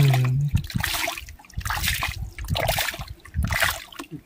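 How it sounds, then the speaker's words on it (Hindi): Water gushes and splashes out of a hole at a lake, a close, continuous bubbling flow that surges in repeated bursts with no voices. "पानी निकल रहा है यहाँ से"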